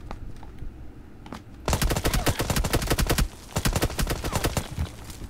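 Rapid bursts of automatic gunfire in a shooting video game, loud and close, sputtering in dense volleys with a short pause before another long string of shots.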